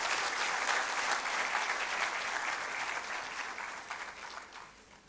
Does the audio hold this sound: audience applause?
yes